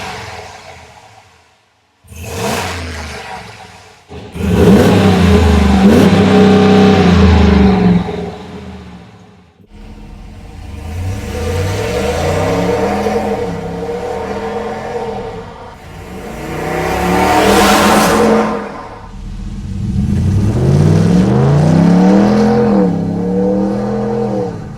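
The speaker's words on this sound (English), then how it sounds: "let's compare the sound before and after the Manta exhaust fitment." A RAM 1500 pickup fitted with a Manta exhaust revs in bursts, loud and close, with several throttle blips and sustained revs separated by short pauses, no talking.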